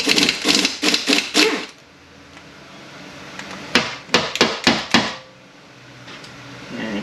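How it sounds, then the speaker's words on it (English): Metallic hammer-like taps while a pin is worked out of a Mercedes 722.118 automatic transmission, a quick cluster of sharp knocks, a quiet pause, then another burst of close, loud strikes. "Go ahead and pull this pin out over here."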